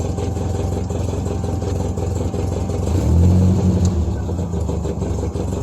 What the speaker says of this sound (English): little lumpy at idle. I do, like I said, I do got to tune that carburetor a little bit.